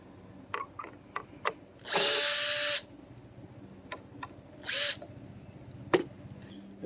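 A power drill drives screws in two sustained whirring bursts, the first nearly a second long and the second shorter, with scattered knocks and clicks of handling around them on a concrete laundry-room build.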